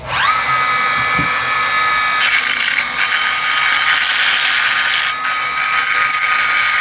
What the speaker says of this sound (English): Dremel is a great tool.